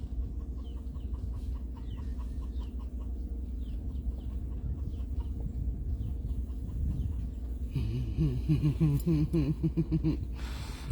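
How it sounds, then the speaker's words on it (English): A rooster clucks in rapid, agitated bursts, growing louder and busier toward the end over a low, steady background rumble. "The rooster's all upset"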